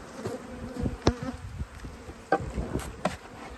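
Honey bees buzzing around the lid of a hive during inspection after returning from almond pollination, a steady soft hum of many insects with brief louder passes close by and occasional light knocks.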